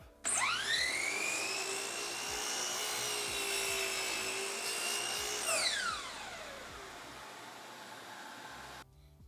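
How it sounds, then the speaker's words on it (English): Miter saw making a single miter cut: the motor whines up loudly, holds a high steady pitch through the cut, then winds down with a falling tone before stopping. "I'm gonna go ahead and make one miter cut, and then we'll check to see if it's 45"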